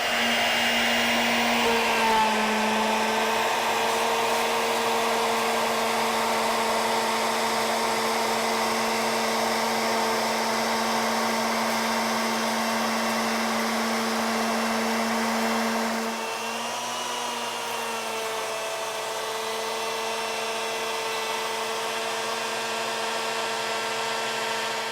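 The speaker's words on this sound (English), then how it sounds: "we're gonna put a bit in, and we're gonna fly cut this down so that this is the correct thickness" ShopSabre CNC router fly cutting a mini banjo neck to thickness, a loud steady high-pitched spindle whine with a cutting hiss, its pitch shifting slightly partway through, continuous and close with no talk.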